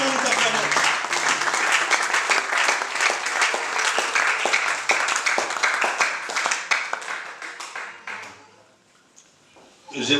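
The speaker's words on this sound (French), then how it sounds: "Sur ce, nous t'acclamons, Jésus." Congregation at a church seminar clapping loudly and steadily, dense applause that fades out near the end before a voice resumes.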